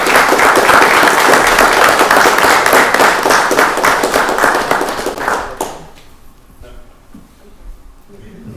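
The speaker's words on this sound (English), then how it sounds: "Let's give them another round of applause." A round of applause at a county board of commissioners meeting, dense clapping for about five seconds that tapers off and stops, leaving a quiet room with faint murmurs.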